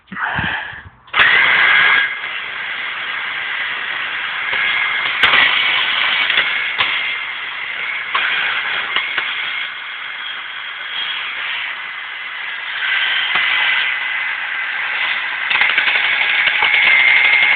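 A steady mechanical motor whirs and grinds continuously, with occasional clicks and clunks over the drone, close and fairly loud.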